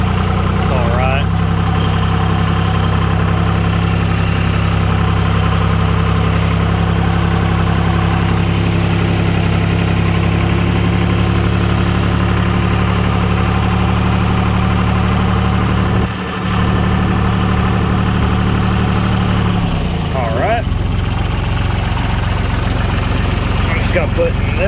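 A John Deere 2155 tractor engine idles steadily at a set low RPM, a close, loud, continuous low rumble with a constant hum and no change in pace.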